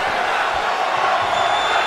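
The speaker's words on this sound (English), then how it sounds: "The crowd chanting one more time." Dense, steady arena crowd roar and chanting from the WWE 2K25 wrestling game, a continuous wash of many voices at constant loudness with no pauses, heard right after a spear during a Raw show.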